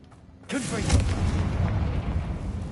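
A Confringo blasting spell detonates amid Ranrock's loyalists in Hogwarts Legacy, a sudden loud boom followed by a sustained rumbling roar that fills the rest of the moment.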